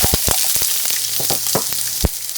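Medium-cut large onion is dropped into hot oil in a pan, giving a close, steady sizzle punctuated by several sharp pops and spatters.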